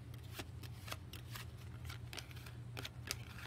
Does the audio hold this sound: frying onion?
no